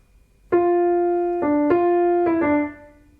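A short melody played in reverse order on a sustained, bell-like pitched instrument: four clear notes with sharp attacks over about two seconds, ringing harmonics, heard alone with no talking.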